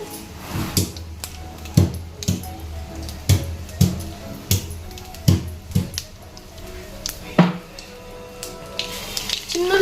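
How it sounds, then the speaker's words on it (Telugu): Tempering seeds crackle and pop in a little hot oil at the start of a potato fry. Sharp pops land every second or so over a faint sizzle, with some background voice. "తాలింపు గింజలు వేసుకోవాలి"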